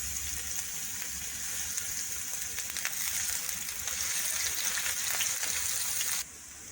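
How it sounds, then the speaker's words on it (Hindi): Chopped onion frying in oil in a pan, a steady broad sizzle with crackle that holds evenly throughout, then drops slightly near the end, with no talk over it. "सबसे पहले पैन में ऑयल डाल लेंगे। प्याज डाल लेंगे"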